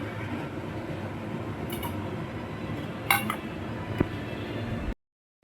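A few sharp clinks of dishes and cutlery over a steady background hum, spaced out irregularly, close by.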